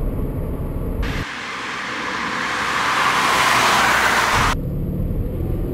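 A 2013 Toyota GT86's four-cylinder boxer engine revs up, swelling into a loud, sustained roar for about three seconds before dropping back to idle, with no talking.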